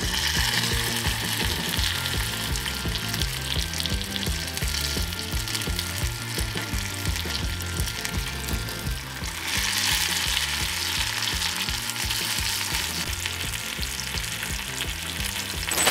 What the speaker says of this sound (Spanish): en aceite bien caliente voy agregando los tacos